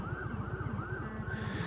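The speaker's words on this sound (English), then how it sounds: "Oh, ambulance is going somewhere." An ambulance siren wails continuously through traffic, a loud, rising-and-falling electronic tone sweeping in regular cycles over a low, steady motorcycle engine rumble, heard from a stopped 2020 Indian Challenger.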